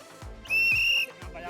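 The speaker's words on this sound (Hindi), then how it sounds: "आप जब निकलते हैं सुबह सुबह तो कचरा उठाते हैं तो ये सीटी बजाते हैं।" Garbage collectors blow a whistle on a morning waste pickup round: a single shrill, steady blast lasting about half a second, close and loud, with someone speaking just before and after it.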